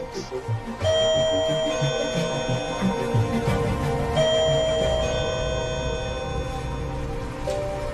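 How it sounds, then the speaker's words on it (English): Bell-like tones ring out clearly, two sustained chimes a few seconds apart over a low electrical hum. "And then I rang the doorbell"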